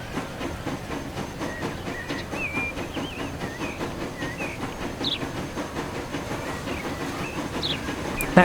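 A train in the video game Transport Fever 2 rolls into a station, with a steady rumble, rhythmic clickety-clack of wheels, a hiss and faint squeals of brakes, loud and continuous without talk.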